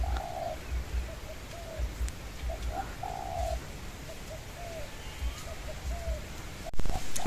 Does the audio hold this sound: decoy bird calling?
yes